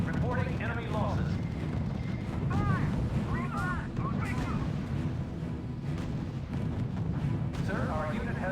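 Heavy gunfire and artillery rumble continuously in the R.U.S.E. strategy game on Xbox 360, a dense low barrage running throughout with voices speaking over it.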